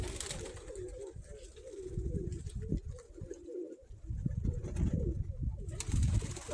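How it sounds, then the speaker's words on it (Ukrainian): Several white-tailed pigeons coo in low, throaty, repeated phrases close by, overlapping one another with soft rustling in the background. "От такі поясенькі у мене білохвості голуби"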